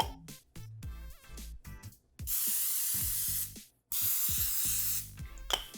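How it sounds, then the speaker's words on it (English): Two long hissing bursts of a cooking spray can spraying a hot waffle maker nearby, separated by a short pause, with other scattered sounds before and after. "I'm going to spray it with a little cooking spray"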